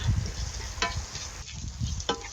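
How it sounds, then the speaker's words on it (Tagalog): Garlic and onion sauté in a pan for Filipino-style spaghetti, a close sizzle with stirring scrapes and a few sharp utensil taps, no talking. "igisa na natin yan hanggang sa maluto"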